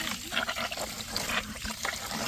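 Water running and trickling while a rabbit hutch is cleaned, a close, steady splashing flow with small irregular surges lasting the whole moment.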